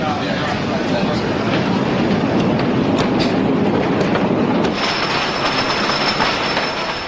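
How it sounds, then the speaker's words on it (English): A roller coaster train at Hersheypark rumbles loudly and continuously along its track, with rattling, clanking wheels and a sustained high squeal joining in partway through. "as the train goes around the track for the first time"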